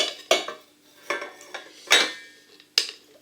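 A metal saucepan that has just been used to boil potatoes is handled, giving five sharp metallic clanks and scrapes spaced irregularly, close and clear with quiet gaps between.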